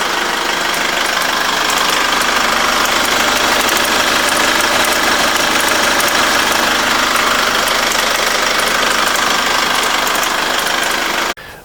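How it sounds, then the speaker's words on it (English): A Holden Captiva 2.2 diesel engine idles on a cold morning start, and a faulty belt tensioner gives a steady, loud rattle and knock close by. It runs continuously with no talk until it cuts off abruptly at the end. "when the engine's started up, and it usually does this just when the vehicle's first started up in the morning and then just idling, you'll hear the belt tensioner making like a rattling noise"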